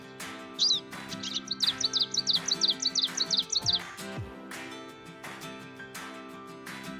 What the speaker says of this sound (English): Here you can see its third bird sound added in your alarm.